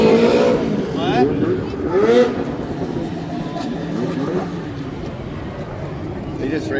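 Racing lawn mowers from Green and Craftsman makes roar and rev down a drag strip at a Goldendale event, loud engine whine rising and falling with pitch sweeps, under crowd chatter and nearby voices.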